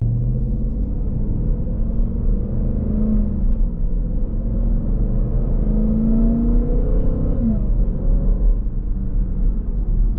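A supercharged V8 Jeep Trackhawk idling and gently revving nearby, a steady low rumble with a rising and falling supercharger whine sweeping through, no talking.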